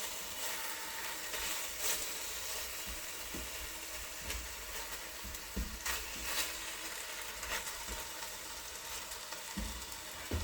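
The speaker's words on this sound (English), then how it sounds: "I'm just going to let this get a good browning to it" A roast browning in a pan gives a steady, close sizzle and spatter, with occasional soft clicks and scrapes over the continuous frying hiss and no talk.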